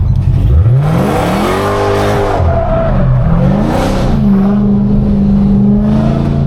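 Dodge Hellcat engine revs hard and rises in pitch as the car slides, its loud sweeping engine tones continuing steadily throughout, with no talking.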